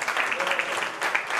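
An audience at an 80th birthday celebration claps to welcome guests, a dense burst of applause sounding throughout the moment.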